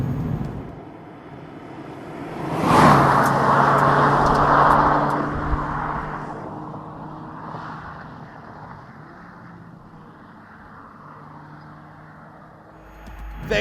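A 2019 Mazda MX-5 Miata Club on the road, its engine surging loudly for a few seconds as it accelerates before settling back into a steady, quieter cruising hum.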